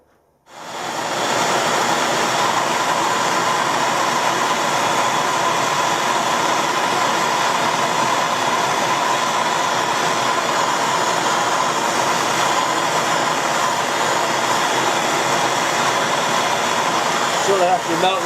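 A torch roars steadily and loudly, heating brass parts being silver soldered with borax flux, a broad continuous hiss that starts abruptly and holds without a break.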